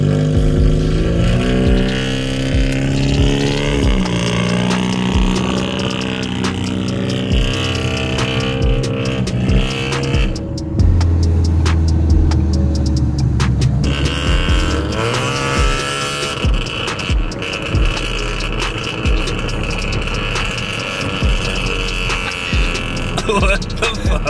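Honda Civic EX fitted with a DC header exhaust, driving: a loud, continuous engine drone with rising and falling revs, harmonic exhaust tone throughout and a brief deeper surge midway.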